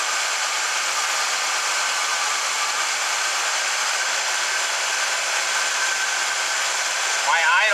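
A 1974 Chevrolet Blazer engine runs at a high, steady idle, a constant loud whine and hum that holds unchanged throughout.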